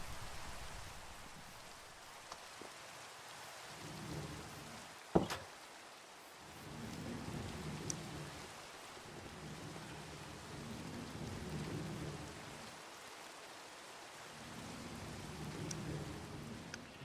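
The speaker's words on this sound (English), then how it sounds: "Okay, thunderstorm." In a video game, a thunderstorm rumbles with rolling waves of thunder over a steady hiss of rain, and one sharp crack stands out; the sound stays faint and distant throughout.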